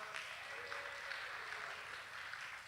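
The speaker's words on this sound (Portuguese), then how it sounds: "Uma salva de palmas para nossa irmã Alessandra." A church congregation claps together in a dense, steady round of applause that fills the space without letup.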